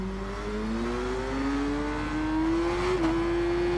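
A vintage superbike engine in the Ride 4 racing game drones steadily up close, its deep tone climbing gradually in pitch as it accelerates, with a brief dip near the end and no voices.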